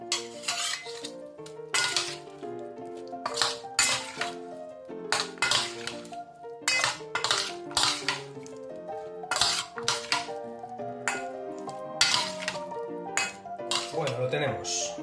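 A spoon stirs shrimp salad with fresh lemon juice in a bowl, making repeated clinks and scrapes against the dish in an uneven rhythm, close and fairly clear, with no talking.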